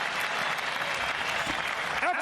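A boxing crowd applauds the fighters after a bout, with dense, steady clapping and cheering filling the arena throughout, while a voice speaks over it near the end.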